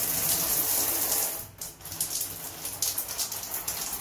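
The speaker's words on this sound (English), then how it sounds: "I'll show you what the shower does." A resort bathroom shower runs with a dense, hissing spray of water that briefly dips as the flow shifts, then continues spattering steadily up close.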